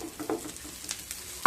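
Cooked rice tipped into a pan of frying green chillies for lemon rice, giving a soft sizzle with a few scraping stirs and a sharper clack at the end.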